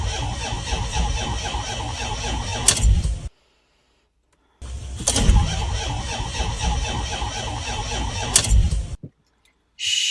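A van with dead batteries fails to start, with two long bursts of strained cranking and squealing each cut off abruptly into silence, the second followed by a brief tone.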